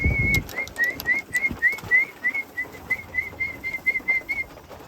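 Pigeons flying back into their loft, heard as a steady series of short, evenly spaced whistle-like tones running throughout, with a brief louder low thump near the start and soft background rustle.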